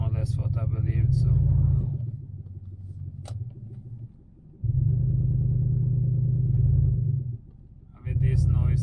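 Lexus LS400 with a 4.0-litre 32-valve V8 idling and warming up on a cold, icy day, a loud low rumble that rises in bursts, settles to a steadier hum, then swells again.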